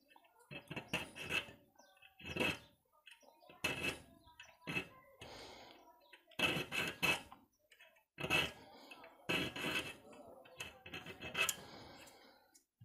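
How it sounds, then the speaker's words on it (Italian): A thin half-round hand file works a small bolt in a workshop, producing short rasping strokes in quick clusters, separated by brief pauses, close and fairly quiet. "dobbiamo limare un bulloncino più piccolo. C'è questa semitonda che è veramente molto sottile"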